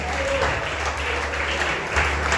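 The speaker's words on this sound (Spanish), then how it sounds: "Denle un aplauso al Señor." Congregation applauding during a church service, a steady, dense wash of clapping filling the space for a couple of seconds with a low hum underneath.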